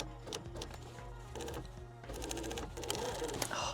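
A sewing machine stitches to finish seams on a denim top made from thrifted jeans, a steady close mechanical whirr with rapid needle chatter that pauses briefly and then resumes.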